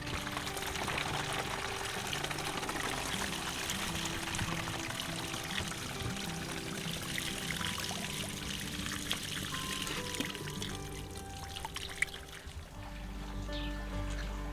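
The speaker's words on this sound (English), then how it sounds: "So we're going to fill the bottle with water and shake it up a little bit" Water pours steadily into a plant spray bottle, mixed with Epsom salts for a garden, a continuous close trickle lasting the whole stretch and thinning slightly toward the end, with no talking.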